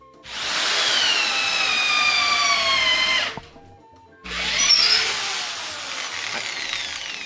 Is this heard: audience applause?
no